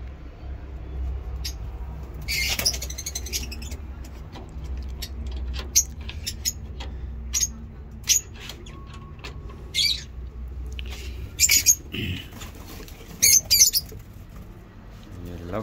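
A pigeon chick and its parents in a box make scattered squeaks, rustles and brief scuffling bursts with occasional wing flaps, close and intermittent over a low steady background rumble in a small home zoo.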